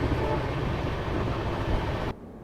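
Sampark Kranti Express running at speed through the Thar desert in Rajasthan, a loud, continuous, close rumble with rattling wheel noise that drops away abruptly near the end.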